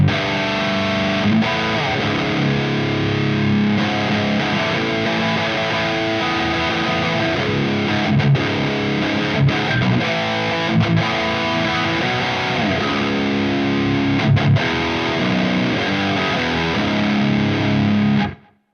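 Electric guitar through a Synergy DRECT rectifier-style preamp, heavily saturated and fizzy, plays a continuous loud riff of chugging palm-muted notes and sustained chords before cutting off abruptly at the end.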